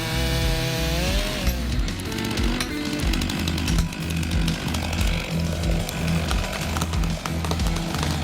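A big chainsaw cuts into a tree stump during stump removal, its loud buzzing engine roaring steadily throughout with rough rattling and chattering as the chain bites the wood.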